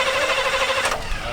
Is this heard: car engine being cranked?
yes